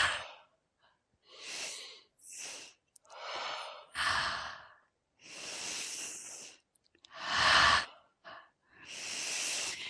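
Repeated deep breaths during a guided energy-healing exercise, long airy inhales and sighing exhales in a slow rhythm of about six or seven bursts, close and fairly soft, with no talking.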